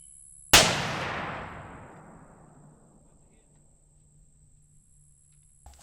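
A single sharp M1 rifle shot fired at a self-healing target at an outdoor range, one loud crack followed by a long fading echo that dies away over several seconds.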